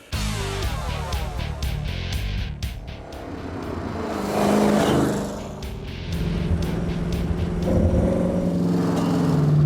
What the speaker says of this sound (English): this baby rides and drives just fine too? Let's try it out and see.